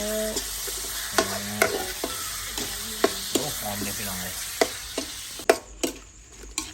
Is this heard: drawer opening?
no